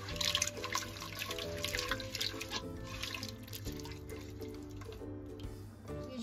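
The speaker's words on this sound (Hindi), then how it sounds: "अब 1 कप भर पानी डालेंगे और इसे अच्छी तरह से मिक्स करेंगे।" Water poured into a biryani mixture and stirred, a close wet splashing and trickling with soft mixing sounds over a low steady hum.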